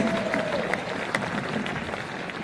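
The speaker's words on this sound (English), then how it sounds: "Round of applause for Laura." Applause from a conference audience at a sales keynote, a dense, steady patter of many hands held at moderate level for the whole stretch, with faint crowd murmur beneath.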